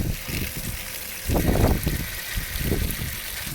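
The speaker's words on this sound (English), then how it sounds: "is to fill the bucket with water" Water gushes and splashes into a bucket for compost liquid fertilizer, a close, continuous rushing pour that swells and surges unevenly.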